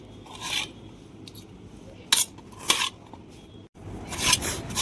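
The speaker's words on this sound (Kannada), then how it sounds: "ಈಗ ಕೊಯ್ಲತ್ತಿದೆ ಆಲೂಗಡ್ಡಿ" A knife cutting potatoes in a home kitchen for vegetable rice, with a few sharp chopping strikes and scraping rasps against a board at close range, spaced irregularly with quieter handling in between.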